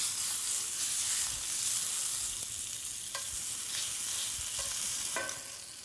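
Sous vide steaks searing in a hot pan on asparagus, a continuous close hiss and crackle of frying with occasional clicks and scrapes, fading slightly near the end, no talking.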